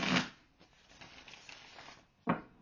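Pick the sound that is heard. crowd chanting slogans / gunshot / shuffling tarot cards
shuffling tarot cards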